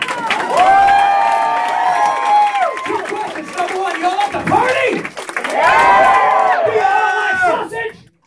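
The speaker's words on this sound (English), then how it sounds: "Folks, a round of applause for a crew I know as Sausage Party!" A comedy show crowd cheers and applauds for the comedy crew Sausage Party, with loud whoops and shouted voices over clapping, swelling twice and dropping off abruptly at the end.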